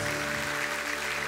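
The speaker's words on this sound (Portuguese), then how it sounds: "Uma salva de palmas." A crowd claps and applauds together at a Catholic Marian devotion event, a steady, dense wash of hand claps filling the space at moderate loudness with no voices over it.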